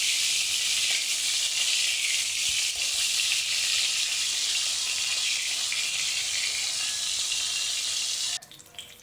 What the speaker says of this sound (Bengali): এই মাছ দুটো আগে ভেজে নিচ্ছি, মাথাগুলো আগে দিয়েছি।